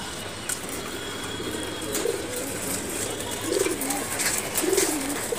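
Pigeons kept in cages on a rooftop coo in soft, repeated rolling calls at moderate distance, set against a steady outdoor background hiss.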